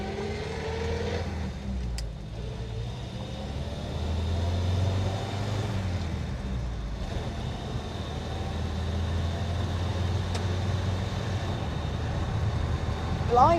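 A 1960s Standard Ensign Deluxe Estate classic British car pulling out onto the road, its engine rumbling low and steady from inside the cabin with a rising note as it accelerates, no one talking.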